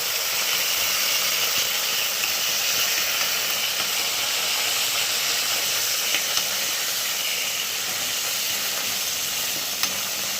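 Curry leaves fry in hot oil for a crunchy raw banana and potato fry, producing a steady, bright hiss with a few small crackles. The sizzle is close and continuous, with no speech.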